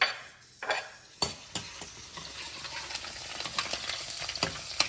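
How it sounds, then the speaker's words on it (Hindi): Steady hissing sizzle of garlic and green chili frying in hot oil, with a few sharp pops and stirring clatters early on, close and continuous. "तेल हो गया है गरम। अब इसमें डालता हूँ सबसे पहले मैं लहसुन, साथ में डाल देता हूँ हरी मिर्ची।"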